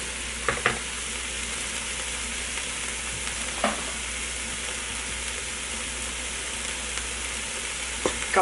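Onion frying in a Ninja Foodi pot for dirty rice makes a steady, moderate sizzle, with a few brief stirring clacks scattered through it and no talking.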